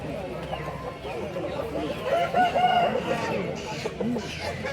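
A black rooster for sale at a goat market crows once in the middle, a clear rising call heard over clucking fowl and nearby people talking amid market bustle.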